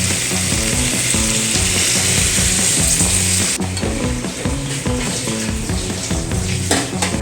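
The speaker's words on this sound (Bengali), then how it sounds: "এখন দিয়ে দিচ্ছি পরিমাণ মতো জল।" Water poured into a hot pan of drumstick vegetables mixed with sesame and mustard: a loud, dense sizzle that churns continuously, shifting in tone partway through as bubbling and clattering take over, no voices.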